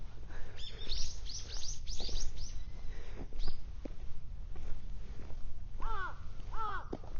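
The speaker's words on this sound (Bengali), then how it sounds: "কাকের ডাক শুনলাম একদম" Crows caw repeatedly near an open, clean playground field in Futtsu, Japan, with several harsh calls clustered early and a pair of clear caws near the end, over steady outdoor background noise.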